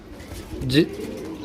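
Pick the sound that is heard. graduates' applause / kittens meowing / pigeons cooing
pigeons cooing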